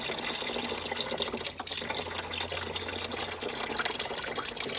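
Steady splashing and gurgling of salty water draining out of a 1984 Chevy Blazer radiator, continuous and close, with a low hum underneath and no talking.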